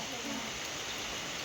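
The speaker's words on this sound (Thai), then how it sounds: "ฝนตกหนักเลยพี่น้อง" Heavy rain pours down over rice fields in a dense, steady hiss with no letup, while someone talks over it.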